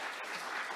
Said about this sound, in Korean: 수고해 주신 선생님께 다시 한번 박수 부탁드리겠습니다.